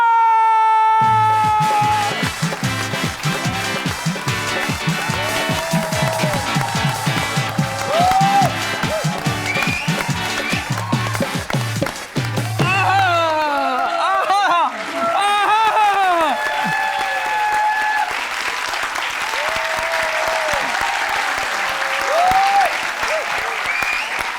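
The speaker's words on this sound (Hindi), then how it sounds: "आप सबकी भरपूर तालियों में, आप लोगों की मोहब्बत में बुलाना चाहूंगा" A television studio audience applauds loudly and continuously to welcome a guest onto a talk show, the clapping mixed with music and raised voices throughout.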